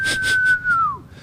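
A single person whistles a sustained, clear tone that glides slowly downward and fades out, heard up close with soft, breathy gusts around it and no talk.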